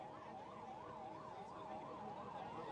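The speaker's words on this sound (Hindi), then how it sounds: "ये एम्बुलेंस को जगह देना भाई, जो एम्बुलेंस आ रही है" An ambulance siren wails steadily in a rising-and-falling pattern, heard at a distance through the ambient noise of a large crowd gathered at a political nomination rally.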